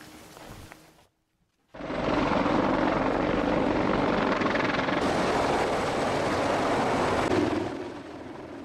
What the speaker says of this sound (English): U.S. military helicopters began hovering training exercises there.